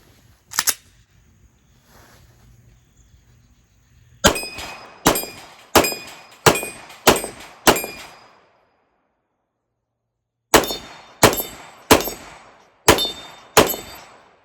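Glock pistol fired at an outdoor shooting range: one early shot, then a string of six evenly spaced sharp reports, a pause, and five more sharp cracks, each loud and close with a short ringing decay.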